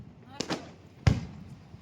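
Firecrackers burst during a Diwali celebration in Babra while people sit down to eat: two quick sharp cracks, then a louder bang, each fading fast against a quiet background.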